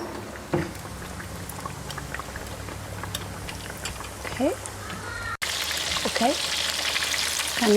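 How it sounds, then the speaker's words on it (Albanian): Chicken fillets frying gently in a pan over moderate heat give a steady close sizzle throughout, with a few scraping stir sounds and occasional speech over the frying. "Do t'i lëm që të skuqen"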